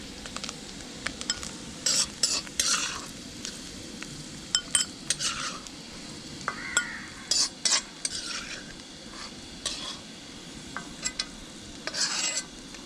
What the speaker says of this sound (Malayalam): തേങ്ങ നന്നായിട്ട് മൂത്ത് വരുന്നുണ്ട്.